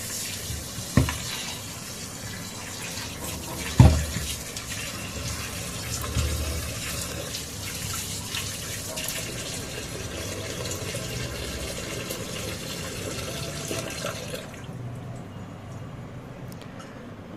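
Tap water runs steadily over frozen prawns in a kitchen, a continuous close gush with a few small knocks that stops near the end.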